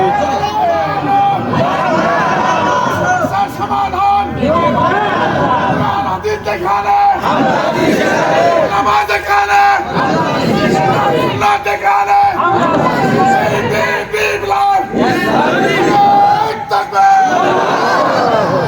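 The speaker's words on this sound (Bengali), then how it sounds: "মহান মালিককে দুহাত দেখায় লিল্লাহি তাকবীর স্লোগান দেন জোরে" A large crowd chanting the Takbir slogan loudly in unison at a religious gathering, repeated surging roars in a steady rhythm, dense and full with babble between calls.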